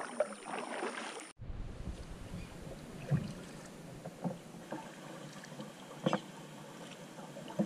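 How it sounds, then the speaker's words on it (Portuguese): A small boat is rowed on calm water during a fishing trip, with soft irregular splashes and paddle knocks, quiet and close, over faint wind, after a brief burst of louder noise at the start. "Agora vamos remar e voltar pra casa."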